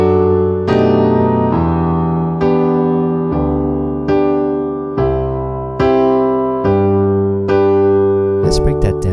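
Piano plays a slow sequence of sustained jazz chords, each struck and left ringing before the next, loud and close with no voices.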